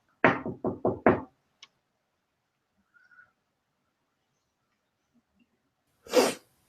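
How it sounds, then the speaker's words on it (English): Knocking on a guest-room door in a building: four quick, close knocks in a row, followed by a faint tap and quiet shuffling before a breathy burst near the end. "knocks on the door where she left Aaron the other night"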